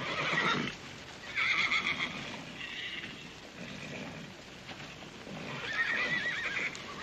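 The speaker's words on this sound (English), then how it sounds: "Oh, Mr. Tabor, I've got some horses up for auction here." Horses whinny and neigh several times in loud bursts, with hooves clopping and shuffling between the calls.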